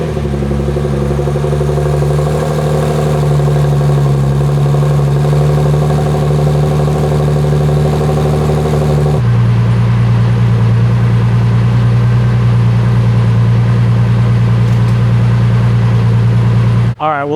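Twin-turbo Nissan 370Z engine running at a loud, steady idle, its tone shifting slightly lower about halfway through and holding until a brief sound at the very end.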